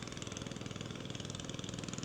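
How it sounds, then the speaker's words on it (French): A vehicle engine idles steadily with a low, even rhythmic throb that runs throughout, fairly quiet, with no voices over it. "Arrête le moteur, s'il te plaît."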